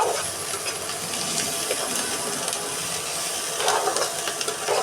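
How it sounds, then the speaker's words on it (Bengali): Drumstick leaves frying in a pan while being stirred for a dried-fish bharta, giving a steady close sizzle with scraping stir strokes throughout, no talking. "আর একটু ভেজে তারপর নামিয়ে নিব"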